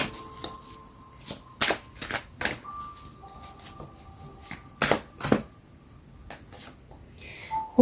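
Tarot cards being shuffled by hand in sharp, irregular riffling bursts, close and alone in a quiet room.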